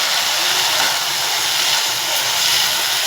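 Small spinach leaves sautéing in a pan, a constant loud hiss and sizzle with no breaks or voices.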